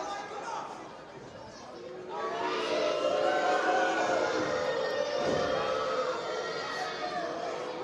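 Wrestling event crowd at Cinco De Mayhem reacting in a loud, sustained wash of booing and chatter that swells partway through.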